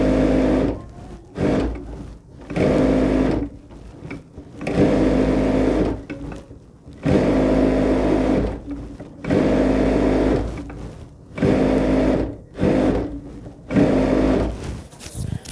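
An industrial sewing machine runs and stitches in loud, close bursts of a few seconds each, separated by brief pauses, with a steady mechanical whir and no talking.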